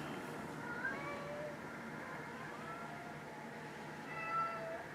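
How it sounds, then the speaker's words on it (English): House cats meow intermittently, a few drawn-out calls standing clearly above a steady background hum, moderately close and with no talking. "My cats are in a mood today."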